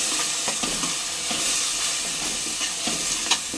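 Coarse-ground masala paste sizzles loudly in a pan for Telugu-style crab curry, a constant frying hiss broken by regular scraping strokes of stirring.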